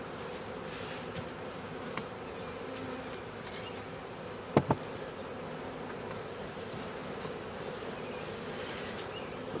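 Honeybees buzz steadily around an open deep brood box in a backyard apiary, a dense continuous drone close by, broken once by a couple of sharp knocks from the hive frames.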